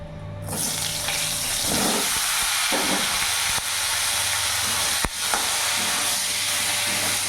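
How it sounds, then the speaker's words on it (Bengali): Cut ridge gourd pieces fry in oil left from frying potatoes, a loud, steady, broad sizzling hiss that continues throughout, with a couple of brief clicks from the pan. "ওই তেলের মধ্যেই আমি কেটে রাখা ঝিঙেগুলো ভেজে নেব"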